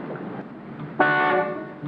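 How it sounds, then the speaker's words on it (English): A car horn sounds one sustained honk of about half a second, fairly loud over low background noise, standing out clearly in the middle of the clip. "Will you stop honking, Mac?"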